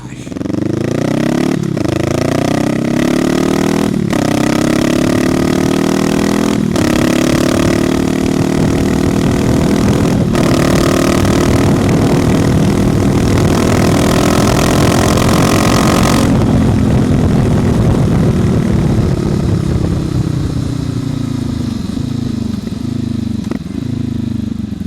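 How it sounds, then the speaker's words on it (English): Honda SCL500 motorcycle fitted with a Leo Vince exhaust, ridden with the baffle in and out, drones loudly as it accelerates through several sharp gear shifts, then eases off to a lower, steadier engine note under constant wind noise. "that ride test with the baffle in and the baffle out gave you a good representation of the sound"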